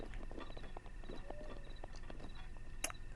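Faint horse hooves clip-clop in an uneven walking rhythm in Zelda: Breath of the Wild, set against quiet ambient game sound, with a brief bright chime near the end.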